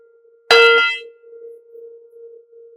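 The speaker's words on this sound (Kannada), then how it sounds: "ಈ ದೊಡ್ಡ ಗಂಟೆಯನ್ನ ನಾವು ಪ್ರಕೃತಿ ಗಂಟೆ ಅಂತ ಕರಿತೀವಿ." A large Vastu prakriti bell, used in home worship, is struck once with a bright metallic clang, then leaves a steady low ringing tone that lingers on its own.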